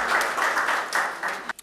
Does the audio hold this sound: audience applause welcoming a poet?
yes